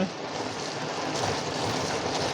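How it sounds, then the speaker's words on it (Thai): Rain falls in the open during outdoor cooking in a rural Thai village, a dense, steady hiss of drops hitting surfaces close by, fairly loud throughout. "โห ฝนตกค่ะทุกคน"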